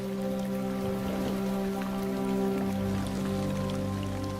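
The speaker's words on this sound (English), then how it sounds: "As the rains roll in," Rain falls steadily across Zambia's Luangwa valley during the rainy season, a dense, even patter of drops hitting surfaces that holds at a constant moderate level throughout with no voices.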